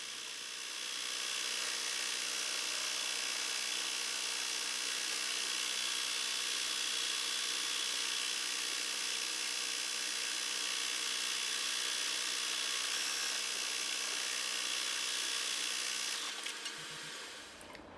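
A seamstress's sewing machine stitches with red thread in a continuous, even mechanical whir that holds steady for about fifteen seconds before winding down and stopping at the end.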